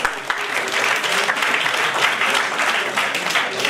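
Audience applause for a speaker at an academic conference at a college in Mannarkkad, loud, dense and steady clapping across the whole stretch.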